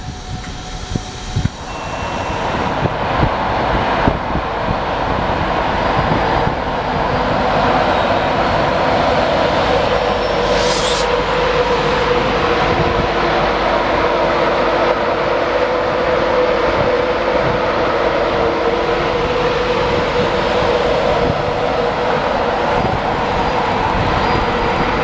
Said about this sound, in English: There's a freight going down the other side.